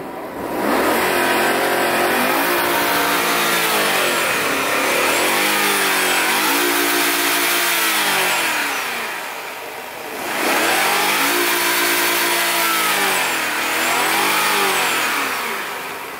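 Stock BMW E39 with a V8 engine revving hard from idle at a car meet, three long loud rising-and-falling revs close by, each swelling to a high roar before dropping back.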